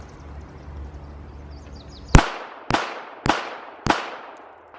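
A Baby Rock .380 ACP 1911 pistol fires four loud, sharp shots in quick succession, about half a second apart, each followed by a short ringing echo, after a stretch of quiet background noise.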